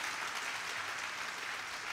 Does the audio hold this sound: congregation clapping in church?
yes